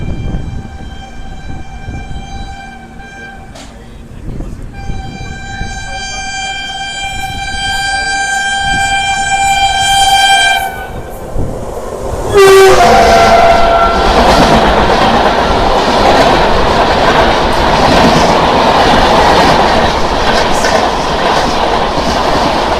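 The Rajdhani Express passing close by, opening with a long, loud multi-tone horn blast, then a steady rushing roar of coaches and wheels that continues to the end without talk.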